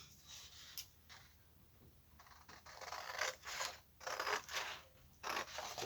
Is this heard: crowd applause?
no